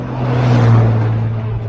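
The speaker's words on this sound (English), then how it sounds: "It's revving its engine." A car engine revs on a roadside in Australia, a loud sustained drone that swells toward the middle and eases off, heard alone without speech.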